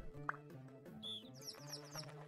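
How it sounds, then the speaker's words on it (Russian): In the video game Save the Girl, a short synthetic whistle tone sounds amid light, bird-like chirps and tweets over a soft, steady game music bed. "Давайте возьмем свисток."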